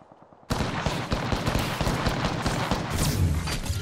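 Rapid gunfire in a video game firefight bursts in loudly after a brief quiet moment and keeps going as dense, overlapping shots and impacts for the rest of the clip.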